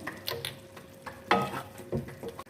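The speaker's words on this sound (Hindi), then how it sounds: "कसूरी मेथी को मिक्स कर लेते हैं कीमे में।" Minced meat with dried fenugreek being stirred in a pan, a few scraping, clattering strokes of a spoon with a faint sizzle beneath, close and moderately loud.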